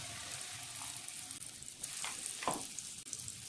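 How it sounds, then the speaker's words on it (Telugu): Freshly ground ginger paste frying in hot oil for a chicken pickle, a steady close sizzle with occasional stirring scrapes, no talking. "పచ్చి వాసన పోయే వరకు ఫ్రై చేసుకోవాలి అల్లంని"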